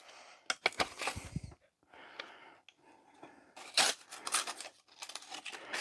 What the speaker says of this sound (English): We'll take the old paper off here.